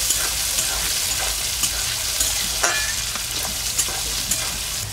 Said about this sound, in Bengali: মটরশুঁটিগুলো দেওয়ার পর একটু নেড়ে নেবো।